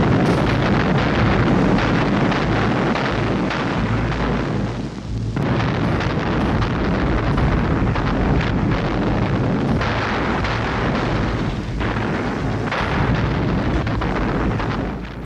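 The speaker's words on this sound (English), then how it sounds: "The initial artillery offensive lasted almost 2 hours. Heavy fire came from the Kronstadt stronghold" Soviet artillery barrage at Leningrad in January 1944, with heavy fire from the Kronstadt stronghold, heard as a loud, continuous roaring rumble of dense bombardment that barely lets up.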